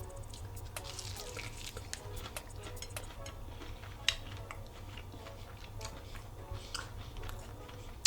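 Crunchy fried chicken wings being chewed close to the mic, a steady run of soft crisp crunches and bites with small clicks, no talk.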